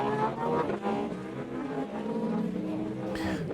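An LMP2 prototype race car in the iRacing sim at the Algarve circuit roars past GT3 cars, a dense loud engine note with shifting pitch and a rising pass-by near the end.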